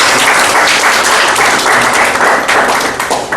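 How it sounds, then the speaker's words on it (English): A Toastmasters audience gives a round of applause, loud, dense, continuous clapping close by that eases slightly at the very end. "I think he deserves a round of applause."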